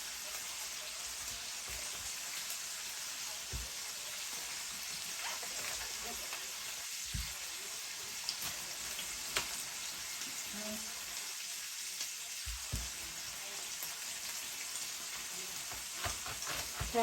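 Sausage frying in a pan for fried cabbage, a continuous soft sizzle and crackle with occasional faint clicks and knocks, no one talking over it.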